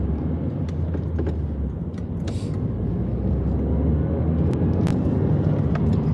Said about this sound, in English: they were just waiting for that car to drive by